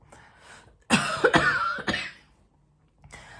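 One person coughs, a short harsh burst of two or three coughs close by, surrounded by quiet.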